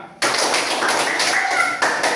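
Classroom students clapping hands during a counting clap game, a dense continuous patter of many claps under a teacher's voice, fairly close and steady.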